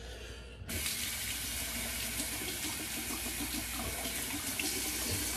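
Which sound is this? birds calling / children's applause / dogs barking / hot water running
hot water running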